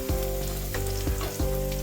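Urad dal batter frying in a pan for rasmalai, a steady close sizzle with a few short stirring bursts, no voices.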